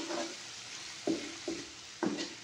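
Garlic, onion and tomato sauté in a pan with a steady sizzle, punctuated by three or four short scraping stirs of a utensil against the pan.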